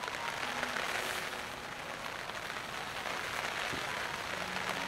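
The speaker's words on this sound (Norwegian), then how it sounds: "Det regner skikkelig surt." Heavy rain drums steadily on a tent in the Femundsmarka wilderness, a dense, even patter close overhead that continues without pause, with no talking.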